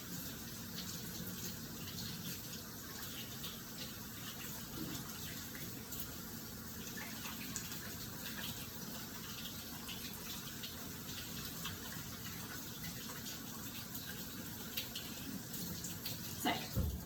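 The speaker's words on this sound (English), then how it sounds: "I will wash my hands for 20 seconds to ensure that any germs are completely and utterly washed" Hands are washed under a running tap at home, with a steady, fairly quiet stream of water splashing for the whole stretch and a few faint knocks near the end.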